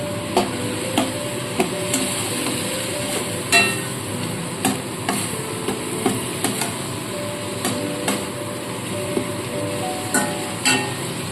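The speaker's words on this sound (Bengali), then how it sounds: "এবার একটু ভালো মতো নাড়াচাড়া করে নিতে হবে মশলাটা একটু কষিয়ে নেবো" Spice paste with a little water frying in a pan for a pointed gourd curry, stirred with a spatula that knocks against the pan in regular close taps over a constant sizzle.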